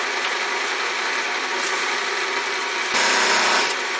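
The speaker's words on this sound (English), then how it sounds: "And we'll part it down as far as we can." Wooden pegs being parted off on a lathe, a steady high-pitched cutting whine running throughout, growing brighter and harsher near the end as the tool bites deeper, with no talk over it.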